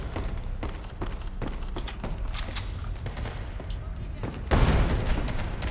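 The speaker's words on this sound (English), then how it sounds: "Hearing some gunfire in there." Gunfire in the online shooter Ghost in the Shell: First Assault Online, with rapid bursts of shots and thuds going on throughout and a louder, nearer burst near the end.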